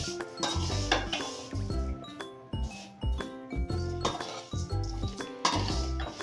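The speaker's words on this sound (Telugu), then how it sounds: "అందుకని నిదానంగానే సిమ్లో పెట్టి ఫ్రై చేయాలా ఫ్రెండ్స్" Vermicelli (semiya) frying on low heat while a metal spoon stirs it around a pan, giving repeated close scraping and clinking strokes in an irregular rhythm with a faint sizzle underneath.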